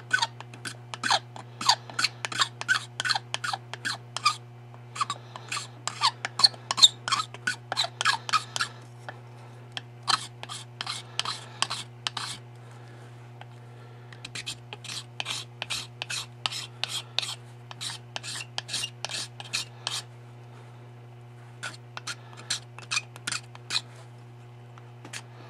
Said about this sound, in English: I'm using my scraper and just working carefully